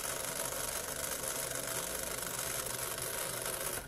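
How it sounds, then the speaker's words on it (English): A small DC motor switched on by a push button hums steadily and faintly, a continuous even whir with no voices. "See, the motor has started to rotate."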